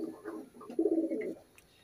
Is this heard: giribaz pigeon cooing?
yes